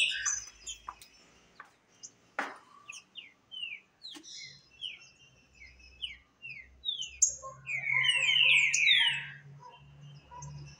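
A green-winged saltator (trinca-ferro) sings near the microphone in short, sharp, sweeping whistled phrases separated by pauses. The song grows into a denser, louder burst toward the end over a low background hum.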